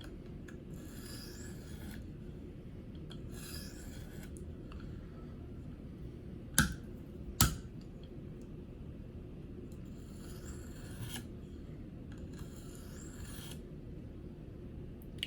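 A Gerber Paralite knife blade is drawn across a KME sharpener stone in repeated rasping strokes, about two seconds each, with two sharp clicks midway, close and fairly quiet over a soft background hum.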